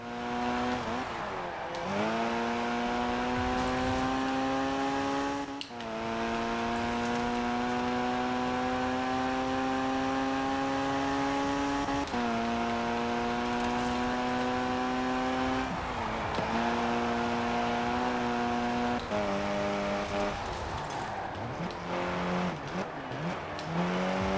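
Engine of a race car in the game K74 Rivals revs loudly and steadily, rising in pitch through each gear before dropping at shifts several times, with a brief tire squeal and no talk.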